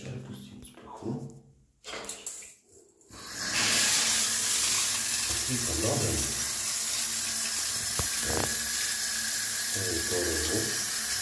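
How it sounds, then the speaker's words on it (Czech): Shower running inside a 170 cm shower enclosure, a steady broadband hiss of spraying water starting a few seconds in and continuing loud and constant, with someone talking over it. "a když tady pustím sprchu"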